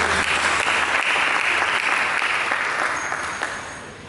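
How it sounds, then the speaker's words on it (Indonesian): A church congregation claps for Jesus during a sermon, a dense and sustained round of applause close at hand that fades slightly toward the end. "Berikan tepuk tangan untuk Yesus."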